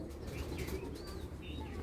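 Pigeons kept in a loft, soft cooing and chirps with light wing rustles, faint and close, over a low steady background.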